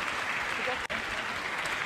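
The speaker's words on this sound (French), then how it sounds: "Pour une fois qu'on peut applaudir les banquiers, s'il vous plaît." Audience applause at a regional talent awards event in a hall, a dense wash of clapping from many hands with a brief break partway through.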